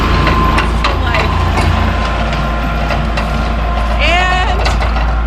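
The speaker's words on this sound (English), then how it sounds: "there's a tractor coming up the road in the background, so you can hear that a little bit as well" A tractor's heavy diesel engine rumbles low and steady as it passes by on a road at a moderate distance, while someone talks over it.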